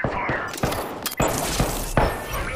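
Video game gunfire in a squad shooter: several loud, sharp bursts of shots about half a second apart, close and punchy, with brief voices mixed in.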